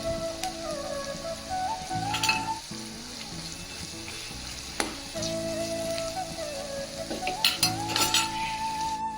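Mutton liver preparation frying in a pan with coriander and mint, a steady close sizzle with scattered utensil clinks and stirring scrapes, no talk.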